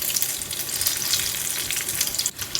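Banana fritters frying in hot oil, giving a steady, dense crackling sizzle that stays close and loud without a break, with no talking.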